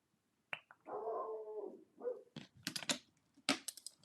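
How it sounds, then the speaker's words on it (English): A dog barking at other dogs in a doghouse, a few separate close barks and yelps with short gaps between, plus some light clicking sounds in a quiet room. "She's barking at the dogs that are in the doghouse, making noise."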